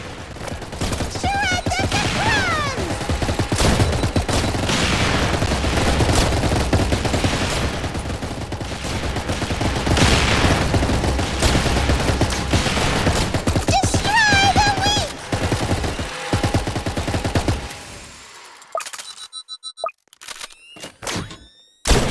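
Sustained rapid gunfire from a frost-themed shooter video game, loud continuous bursts of automatic fire with dense impacts for most of the stretch, thinning into scattered shots and electronic chimes toward the end.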